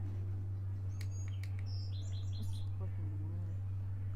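Small birds chirp in short bright bursts from the soundscape of the video game Higurashi: When They Cry, heard over a steady low hum with light talk.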